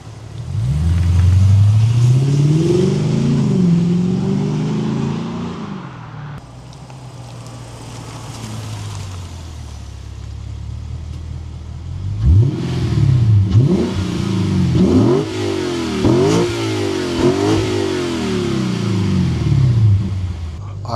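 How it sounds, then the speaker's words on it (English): A Lexus RC F V8 with an Apexi axleback exhaust drives past and revs, a loud, deep throaty roar that rises and falls through a long pull, eases off, then returns with a series of sharp repeated revs. "let you guys hear some exhaust clips."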